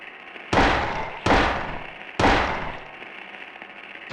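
Three loud, heavy gunshots from a handgun in Silent Hill 1, spaced under a second apart, each a sharp close blast with a decaying tail, over quiet game ambience.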